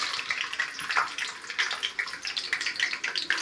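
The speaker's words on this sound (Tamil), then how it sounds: "எண்ணெய் நல்லா சுட்டுருச்சு பூண்டு போட்டுக்கிறேன்" Garlic dropped into well-heated oil in a pan, with dried red chillies, while making coriander chutney: a steady, bright crackling sizzle with dense popping, moderately loud and close, with no talking.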